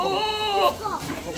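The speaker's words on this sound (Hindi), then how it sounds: "हाँ, एक बकरी है अल्हम्दुलिल्लाह बच्चे के साथ।" A goat with her kid on a goat farm in Ahmedabad gives a close, wavering bleat lasting most of a second, followed by a shorter, softer call, with people talking in the background.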